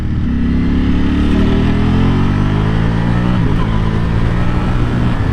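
Ducati Panigale V4 SP2 sports bike engine pulling hard while riding, a loud continuous drone rising in pitch then dropping sharply at a quick-shifter upshift before climbing again.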